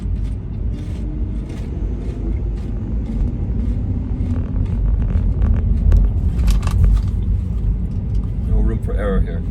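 Steady low rumble of tyres and engine from inside a car cruising on a highway toward a turnpike, continuous and fairly loud throughout, with a faint voice murmuring in places.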